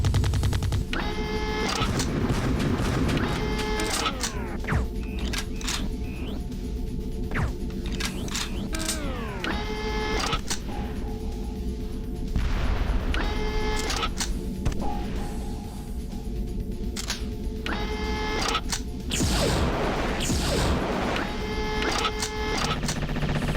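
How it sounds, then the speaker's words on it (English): Weapon switching in the video game Redline Gang Warfare 2066, where the gun barrel swaps, produces repeated mechanical clacks and ratcheting bursts in clusters, loud and close against a droning game background. "when you switch between weapons, it's just the barrel that changes"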